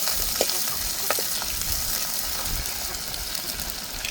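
Fennel seeds, fenugreek and curry leaves frying in oil for a mutton curry, a steady close sizzle with a few sharp crackles and pops early on.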